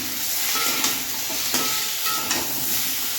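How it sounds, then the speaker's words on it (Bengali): Potato pieces with salt and turmeric fry in hot oil in a pan, giving a continuous sizzling hiss broken by a few light scraping stirs, close up with no voices. "পুরো ভাজা ভাজা হচ্ছে দেখো"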